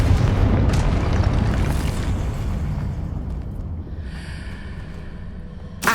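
A Confringo explosion spell goes off in the Hogwarts Legacy video game as a loud, deep boom that rumbles and fades over several seconds, with a brief crackle near the end.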